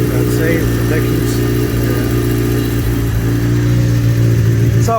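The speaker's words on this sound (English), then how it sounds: "Got her started up, she's all warmed up here. It's actually idling pretty well at the moment." A warmed-up motorcycle engine idles at about 1400 RPM with a loud, steady, even rumble throughout, while someone talks over it.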